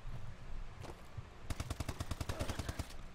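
Gunfire in Call of Duty Advanced Warfare, a few scattered shots early on followed by a fast, even burst of automatic fire lasting over a second, fairly quiet overall.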